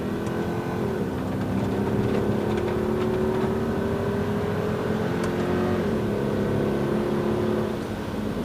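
A Mercedes-Benz AMG car accelerates out of a corner, the engine note rising steadily under power, then easing briefly and climbing again, heard from inside the car.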